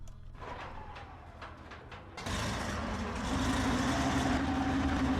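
Tiger 1 tank engine in Tank Mechanics Simulator cranks into life, a sudden loud broadband roar that jumps in midway and settles into a steady, droning idle, following a quieter mechanical hum beforehand.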